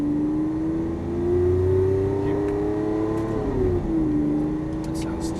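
A Lamborghini Aventador LP700-4 accelerating around a Las Vegas racetrack, heard from inside as a steady rising engine whine that climbs, dips, then holds, with a voice talking over it.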